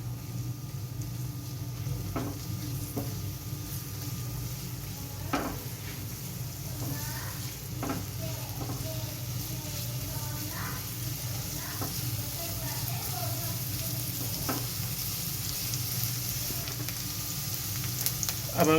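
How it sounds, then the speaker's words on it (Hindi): Chopped onion frying in oil for an egg masala sandwich, a long, steady, close sizzle with occasional stirring scrapes and clicks, and faint voices in the background. "ऑयल डालने के बाद हमने इसका जो कटा हुआ प्याज है वो इसमें डाल दिया। इसको थोड़ा सा भूनेंगे।"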